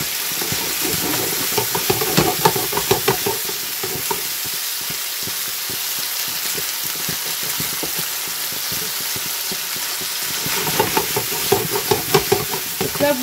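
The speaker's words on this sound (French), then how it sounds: "Donc là, vous les faites bien revenir, hein, de tous les côtés, hein, soit bien doré." Coconut curry balls sizzle steadily in hot oil in a pan while a utensil turns them, with irregular scraping and stirring knocks over the constant frying hiss.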